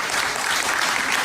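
An audience applauds during a live broadcast special, a brief burst of dense, even clapping at moderate volume with no voices on top.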